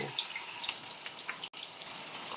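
Squash pieces go into a pan where meat and fish are already sautéing, giving a soft, steady sizzle with small crackles and a brief clatter partway through.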